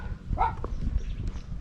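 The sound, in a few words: dogs barking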